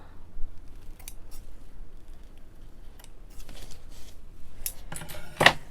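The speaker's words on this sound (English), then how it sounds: "Snip some little threads off." Scissors snip loose threads off a sewn bridle bag, several small, quiet metallic clicks scattered over a soft background, ending in a sharper, louder snip, with no one speaking.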